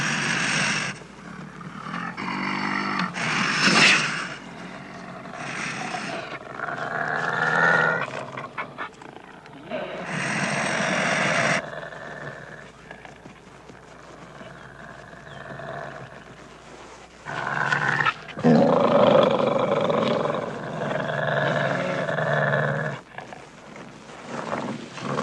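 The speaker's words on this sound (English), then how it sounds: "The wolves, not realizing they are biting only loose skin, are convinced they are killing the badger." Wolves fight a badger, with loud snarling, growling and roaring bursts that come and go across the stretch, with some close, harsh outbursts and only brief lulls between them.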